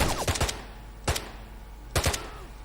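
Assault rifle firing in the shooter game S.T.A.L.K.E.R., three short bursts of rapid gunshots spaced about a second apart, loud and close.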